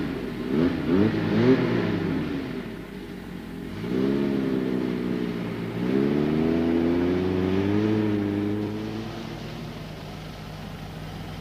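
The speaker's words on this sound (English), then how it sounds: "just get in the car and just drive the damn thing out." A car engine revs repeatedly as it strains to drive out of sand, rising and falling in several surging bursts with gaps between, fairly close and loud, with no talking.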